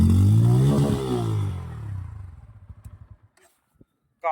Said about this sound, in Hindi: अब मैं आपको सुना देता हूँ इसका एग्जॉस्ट नोट